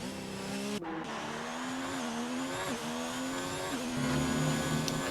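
A race car screams through a fast lap at a test session in Brazil, its steady high engine whine shifting pitch through gear changes and corners, heard continuously and loud.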